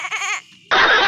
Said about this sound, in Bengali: এবার ছাগলের আওয়াজ হবে, ছাগলের আওয়াজ